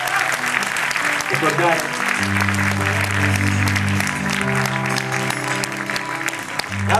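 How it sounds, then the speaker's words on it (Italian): Audience applause at a theatre concert in the Teatro Pietro Aretino, Arezzo, with clapping heard under sustained instrumental tones and a brief spoken word. "un applauso."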